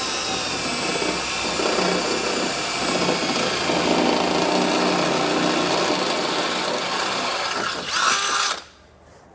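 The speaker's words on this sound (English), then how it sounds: "a half inch drill bit, and I'll just carefully drill all of them out" A power drill with a half-inch bit bores holes through the steel frame rail of a 2022 Jeep, running loud and steady for about eight seconds before winding down and stopping.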